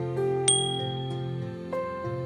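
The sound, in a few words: small bell ringing in a children's cartoon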